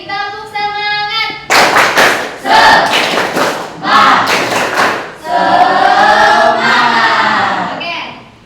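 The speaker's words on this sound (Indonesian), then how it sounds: "Sekali lagi, tepuk semangat." A school class repeats a rhythmic spirit clap, with loud group claps and thumps in short bursts alternating with a teacher's and pupils' chanted voices, close in a room.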